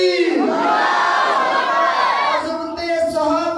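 A large crowd at a religious gathering roars back in unison to a Takbir call, a loud sustained chant of many voices lasting about two seconds, then fading into a second, weaker shout.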